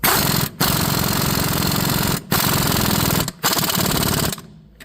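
An impact wrench rattles in three long, loud hammering bursts with brief pauses between them as it tightens nuts on a shock bolt of a 2005 Chevy Monte Carlo, then stops. No one speaks.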